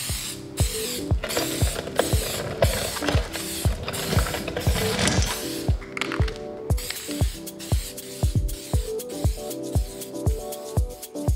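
HyperDip aerosol spray laid as a light dusting coat over a chrome Mercedes front grill: steady close hiss with a dense run of sharp rhythmic clicks throughout, the hiss easing after about six seconds while the clicking continues.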